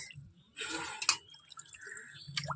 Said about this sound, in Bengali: মাছগুলো এবার ধুইলে।